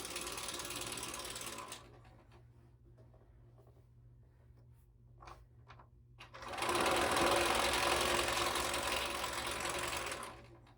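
A standard sewing machine quilts across layered fabric, its needle running in a fast, close mechanical whir, first in a stretch at the start and then again in a longer, louder run after a quiet pause with light clicks.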